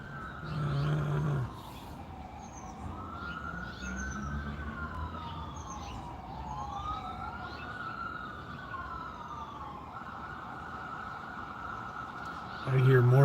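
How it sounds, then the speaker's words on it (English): Police car sirens wail in long rising and falling sweeps from a moderate distance on a city street, steady throughout over background traffic, with brief louder noises at the start and end. "I hear more sirens here than LA."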